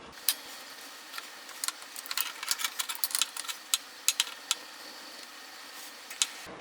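A chain carrier on a Polaris 400L 4x4 ATV is rolled by hand, giving a close, irregular run of light metallic ticks and clicks with no talk.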